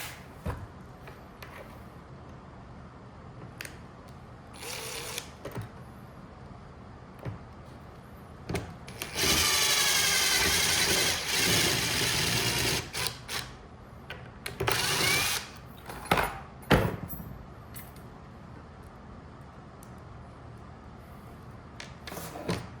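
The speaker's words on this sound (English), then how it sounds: "we're using a self-tapping screw to drill it" A power drill whirs in short bursts, then a longer high-pitched grinding run as a self-tapping screw bores through material, ending in a few brief spurts.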